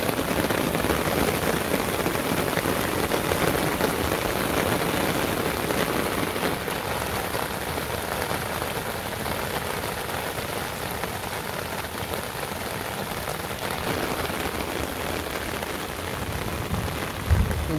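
Rain pours over a rural village in an even, unbroken wash of pattering drops, fairly close and steady throughout, with a brief thump near the end and no one talking.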